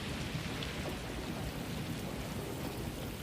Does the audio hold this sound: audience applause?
no